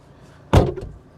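A Fiat Multipla car door with an intermittent latch fault shuts once with a single loud, close thud, followed by a brief softer rattle as it settles, in an otherwise quiet setting.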